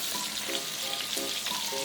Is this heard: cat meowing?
no